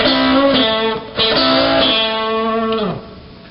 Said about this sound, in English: This next lick is going to use a double stop bend.